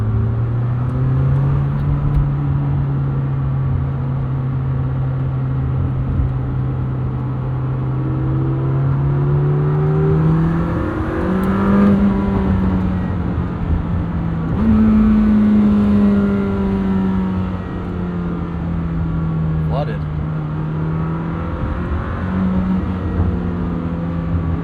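A 2026 Lamborghini Temerario, the 907 hp hybrid supercar, pulls through a morning commute, its engine note loud and close as it climbs and falls in pitch through repeated gear changes, with steady road roar beneath and no talking.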